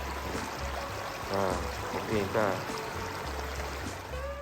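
A stream flows and splashes continuously nearby at Doi Saket, Chiang Mai, a steady rushing wash, while someone speaks briefly over it.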